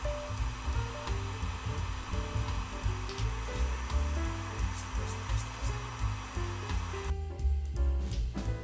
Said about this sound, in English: It's always pleasing to see how the wire markers are shrinking over the heat.